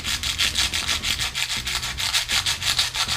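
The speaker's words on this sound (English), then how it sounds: "push the ring together around the sandpaper and then grind away" A piston ring from a Zündapp moped engine is rubbed back and forth on sandpaper, a rapid rhythmic scraping of roughly four strokes per second, close and steady with no speech.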